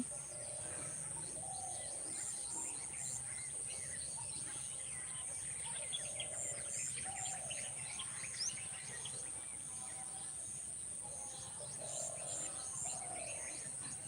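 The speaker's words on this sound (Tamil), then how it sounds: "பறவையெல்லாம் எழுந்து எவ்வளோ வினோதமாக ஒவ்வொரு பறவை ஒரு ஒரு சத்தம் கேட்கவே எவ்வளோ இனிமையாக இருக்குன்னு" A chorus of morning birdsong with varied chirps and repeated calls from several birds, over a faint steady insect hum, no voices, on a misty morning.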